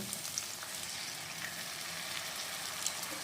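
A ground spice paste goes into a hot pan of partly cooked tomatoes for a Bengali tuna fish curry, crackling with a steady, fairly quiet hiss and faint spatter, heard close with no voices.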